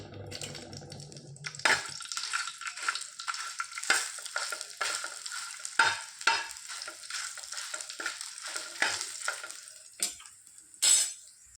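Masala spices and cooked chickpeas frying together in a little oil, a dense steady sizzle with busy stirring and scraping clicks throughout, close and fairly loud, with no talk.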